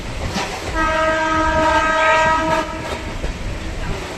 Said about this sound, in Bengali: ওই দিক দিয়েও একটা ট্রেন আসছে,